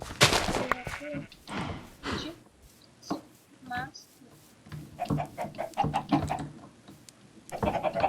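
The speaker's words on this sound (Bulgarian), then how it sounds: "О, тези кокошки като ги нахраня." Chickens cluck in the Minecraft video game, short bursts of in-game clucking and other game effects mixed in with a player talking over them.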